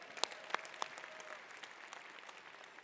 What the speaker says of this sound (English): everybody clap for Osama!